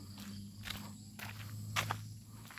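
Footsteps of someone walking home on an outdoor path crunch in a regular, close, moderately quiet rhythm of about four steps, over a faint hum with insects in the background.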